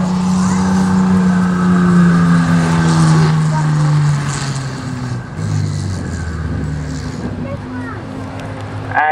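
A reconnaissance vehicle's engine runs loud and close during a tank museum battle display, with a droning rumble that shifts in pitch, while a commentator talks over it.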